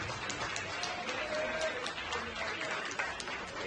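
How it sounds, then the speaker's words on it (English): Applause from a crowd at the grand-final award ceremony of a racing event held with a Ferrari dealer in Monza, moderately distant and steady, with clapping and voices mixed through it. "Give them a round of applause."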